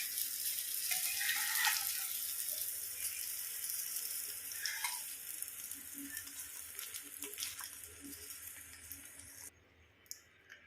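Masala-coated eggs fry in a pan for a Mangalorean egg fry, giving off a soft, continuous sizzle with faint stirring noises; the hiss drops away sharply near the end.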